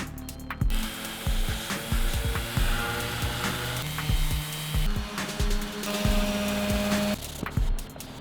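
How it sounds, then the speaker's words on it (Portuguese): Hand sanding on a wooden cactus planter makes rhythmic, close, scratchy rubbing strokes in repeated bursts, with a couple of sustained tonal hums in between. "Toca a lixar tudo."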